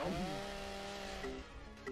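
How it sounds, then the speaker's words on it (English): An enemy's chainsaw in Brain Dead 13 revs with a steady buzzing whine, close and loud, holding its pitch for a couple of seconds before dipping slightly. "he's got a chainsaw now"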